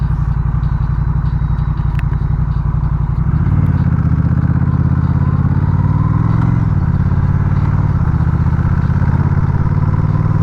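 A motorcycle engine rumbles steadily while riding on a freshly repaired street just after light rain, with a low, loud, continuous drone that shifts in pitch as the bike changes speed.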